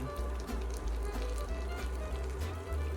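Roast beef hash with jalapeno frying in a pan, giving a steady, close sizzle with a constant low rumble, unbroken throughout and with no voices.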